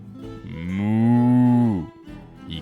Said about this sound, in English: Its engine moos as it drives down the road,